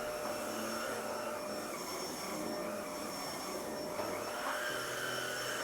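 Cordless vacuum cleaner running on its lowest setting over a rug, a steady close whooshing whine that holds even throughout with a slight shift in pitch near the end, no voices.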